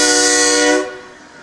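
Horn of a train on an active railroad line during a Christmas parade in Henderson, a loud steady harmonic blast lasting under a second before cutting off into faint background noise.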